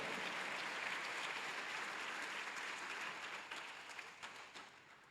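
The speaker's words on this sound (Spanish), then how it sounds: "denle un fuerte aplauso al Señor." Congregation in a Spanish-language church service breaking into strong applause, an even mass of clapping that stays full before easing off and loosening into scattered claps near the end.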